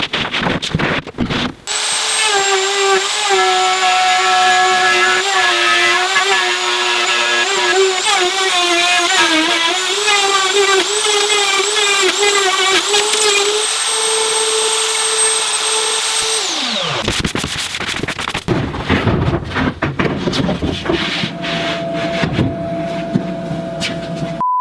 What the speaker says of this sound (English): Now I can finally get back to grooving out the plywood above the motor.